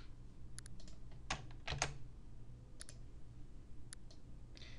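Someone types in short bursts on a computer keyboard while entering drop-down entries in Adobe Acrobat. The key clicks are close, sharp and irregular over a quiet background, and nobody speaks.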